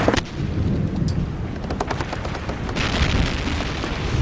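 Rumbling artillery fire in a naval period drama, a dense, continuous low booming barrage with scattered sharper cracks, loud and sustained.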